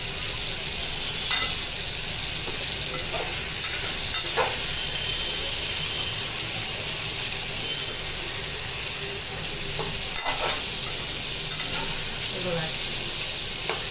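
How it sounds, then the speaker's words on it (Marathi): Stuffed sponge gourd (ghosali) roasts in a pan with a steady, close sizzle and a few sharp clicks of stirring or turning, while a voice says a brief word. "अशी 3 मिनिटं तरी ती पूर्ण चांगली भाजून घ्यायला लागेल"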